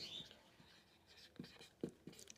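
A pen writing a sentence on a surface, with faint scratchy strokes and a few firmer taps, quiet and close.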